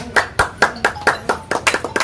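Sharp hand claps ring out in a steady rhythm, about eight or nine distinct claps, close and fairly loud, with no talk over them.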